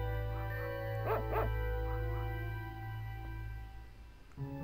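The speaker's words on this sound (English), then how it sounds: "It's a very good synthesized bark, actually. Sounds pretty realistic." Synthesized dog barks from the Secret of Evermore video game: two quick, clear yips near the one-second mark and a few fainter echoes, over steady game music.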